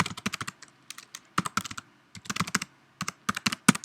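Quick bursts of keystrokes on a computer keyboard as a password is entered, close and crisp, in uneven clusters separated by brief pauses.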